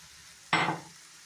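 Spice paste and yogurt hit a hot pan for a chicken dish, giving one sudden loud sizzle that flares and then fades over less than a second, heard alone.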